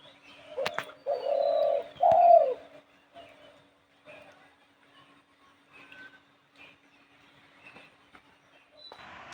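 Two birds perched on a wooden branch by a veranda in rainy weather give low cooing calls, two louder drawn-out coos close together early on, then only faint scattered sounds in a quiet setting.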